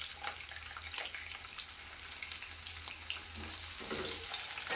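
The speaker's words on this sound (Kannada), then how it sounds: "ಇದನ್ನೆಲ್ಲ ಇವಾಗ ರೀ ಬೇಯಿಸ್ಕೊರಿ. ಈಗ ಮೆಣಸಿನ್ಕಾಯಿ ಹಾಕೋರಿ" Chopped chillies with crushed ginger and garlic fry in a pan for a rice pulao made with ration rice, a soft, steady sizzle with faint crackles, heard alone and fairly quiet.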